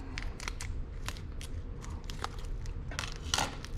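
Scissors snip open a garlic package in a home kitchen: several crisp, close cuts with crinkly plastic crackles between them, set against a low background hum.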